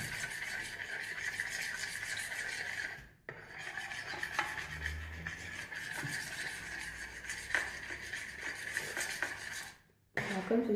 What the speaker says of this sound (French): Et mélanger avec une petite cuillère.